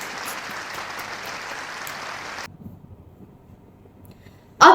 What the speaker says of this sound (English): Give applause for us, please.